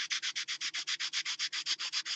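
Steady back-and-forth strokes of a sanding stick on a tramcar diorama base, about seven per second, a dry rhythmic scratching that continues evenly throughout, close by with no voices.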